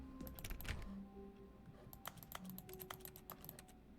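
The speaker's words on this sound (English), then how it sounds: "Why does it make like a typing sound when I hit the filing cabinet?" Rapid clicking keystrokes like typing on a keyboard, a video game sound from hitting a filing cabinet in The Stanley Parable: Ultra Deluxe, in quick irregular bursts over a low background hum with faint tones.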